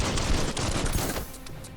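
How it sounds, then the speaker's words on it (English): Rapid gunfire in the video game Biomutant, a dense burst of overlapping shots that fills most of the clip and then breaks off, loud and close with no talk over it. "Oh, right, shooting."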